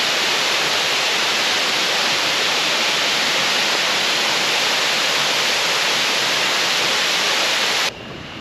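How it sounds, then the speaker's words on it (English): The Prainha waterfall roars close by as a steady, loud, broadband rush of falling water that stays constant and drops away sharply just before the end. "Beautiful waterfall"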